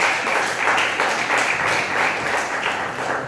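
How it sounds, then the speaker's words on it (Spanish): A church congregation claps together in loud, steady applause during a sermon, a sustained wash of many hands with no talk over it. "Démosle un fuerte aplauso a Él."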